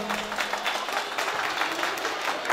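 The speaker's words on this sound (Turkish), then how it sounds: "Efendim şöyle bir alkış gelsin aile eşrafımıza." Dense, steady applause from a crowd of guests at an engagement party celebration, sustained and fairly loud throughout with no voices standing out.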